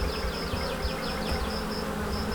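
A honey bee swarm buzzes densely and continuously close by, a thick overlapping hum of many wings with individual bees whining past, with no voices.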